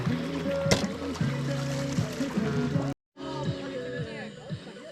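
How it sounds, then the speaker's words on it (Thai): Men bathing outdoors in a river while washing motorcycles, with splashing and running water up close, lively voices talking over it, and a brief dropout partway through. "บรรยากาศอาบน้ำของกลุ่มกลุ่มผู้ชาย แล้วก็ล้างมอไซค์ไปด้วย"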